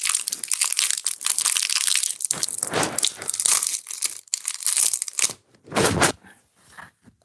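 Crunchy chewing and crinkling of a Kinder Cards chocolate wafer snack, loud and close, with bursts of crunching broken by brief pauses, no talking.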